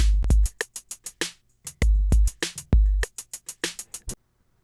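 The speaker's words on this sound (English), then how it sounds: "So I added a drum sample." Drum sample in an FL Studio beat: punchy kicks and crisp snare and hat hits in a steady programmed pattern, loud and close, cutting off abruptly at the end.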